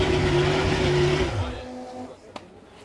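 A Delage V12 hypercar engine holds a loud, steady high rev close by, then drops away sharply as the throttle closes, leaving a fading mechanical whine and a brief click.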